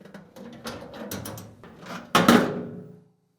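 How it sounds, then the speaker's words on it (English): A Frigidaire range storage drawer slides out along its wheels, then a sharp bump and clatter follows as it is lifted free, loud and close, with a trailing rattle before it goes quiet. "Pull the drawer all the way out and slightly lift on the front of the drawer while slightly pulling it forward."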